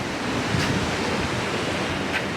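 Steady roar of ocean surf washing onto Pismo Beach, a continuous broadband wash with wind noise across the microphone, no voices.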